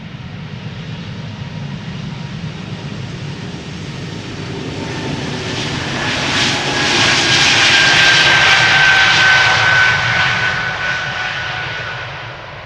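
Air Baltic airliner at Amsterdam Schiphol spooling its engines up for takeoff to Vilnius, a loud close roar that swells and builds in the middle with a rising whine, then eases slightly as it rolls.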